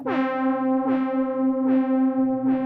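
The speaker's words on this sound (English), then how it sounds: "And some of this beautiful reverb." A bright Sequential Take 5 synth tone repeats about three times, each note washing into a long reverberant tail over a sustained drone.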